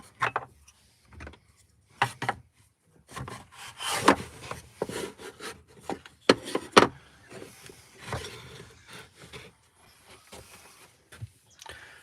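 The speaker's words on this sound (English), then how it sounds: "These are just a little chisel set that I'm using." Small hand chisel carving a little wooden spoon, giving a run of short scraping, rubbing cuts in irregular bursts with brief pauses between them, close and moderately loud with no talking.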